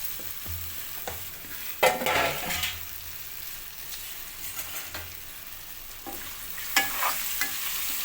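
Potatoes stir-fried with browned onions in a pan sizzle steadily while a spoon scrapes and stirs in irregular strokes, with a few louder clatters against the pan, close up and with no voices.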